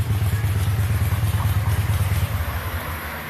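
A Honda CBR 600 sport bike in Repsol livery runs nearby with a steady, throaty engine rumble, holding an even note for a few seconds before easing off slightly.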